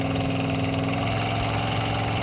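A 1965 Ford Mustang with dual exhaust and knockoff-style Flowmaster mufflers drones along the road in a steady, throaty V8 rumble, close and even.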